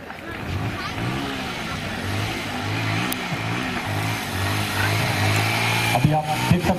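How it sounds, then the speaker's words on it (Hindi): A motorcycle in a stunt display at a CISF passing-out demonstration rides over a tree, its engine revving in rising, repeated bursts while an announcer speaks over a public address. "किस प्रकार की मोटरसाइकिल को पेड़ के ऊपर से गुजारा गया"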